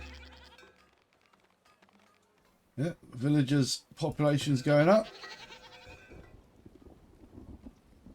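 Goats bleat in a Farthest Frontier village, a burst of several cries in close succession, the ones near the start loud and layered, while someone talks over them with faint ambient game sounds behind.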